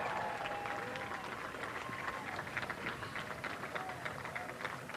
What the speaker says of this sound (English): Lots of applause on the ground here